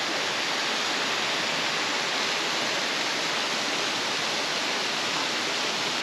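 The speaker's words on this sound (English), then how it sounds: "A little waterfall over there" A small waterfall in remote Australia pours steadily, a constant broadband rush of falling water heard from a short distance, with no talk or other sounds over it.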